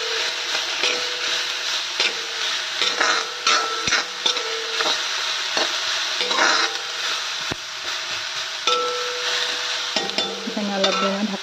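Chopped banana flower being stir-fried in a pan: continuous sizzling with repeated spatula scrapes and knocks against the pan, close up and even in level.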